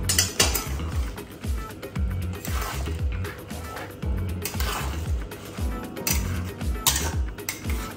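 A spoon stirs Thai red curry in a pot, knocking against the metal in a steady series of clinks and scrapes about twice a second. A soft bubbling sits underneath, and the pot sounds close by.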